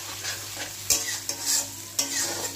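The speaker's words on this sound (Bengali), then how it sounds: "মশলাটাকে সুন্দর করে কষিয়ে নিতে হবে।" Spice paste stir-fried in a kadai for a green pea (koraishuti) dish, sizzling steadily with repeated scraping stirs of a spatula, close and clear with no talking.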